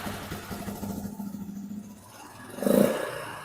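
A Suzuki QuadRunner 230 ATV engine idles unevenly, dips, then gets a short throttle blip that swells into a louder rev near the end, heard close up with no talking.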